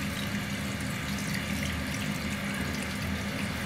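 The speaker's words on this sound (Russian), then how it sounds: "И вот он у нас, вот она, водичка бежит." Water runs out of the self-draining hose of an Indesit washing machine, a faint, even rushing flow with no pauses.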